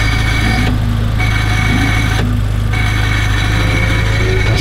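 An Abarth engine fitted with a new downpipe idles loudly and up close with the clutch pressed, a steady low rumble with a rattling, clattering texture and two brief dips in the upper noise.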